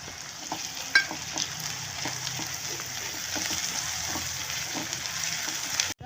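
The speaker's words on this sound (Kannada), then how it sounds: "ರೋಸ್ಟ್ ಆಗಬೇಕು ಫ್ರೆಂಡ್ಸ್ ಈರುಳ್ಳಿ ಎಲ್ಲ" Onions roast with ginger garlic paste in a hot pan, a steady moderate sizzle with light stirring scrapes and taps throughout, ending in a brief clatter.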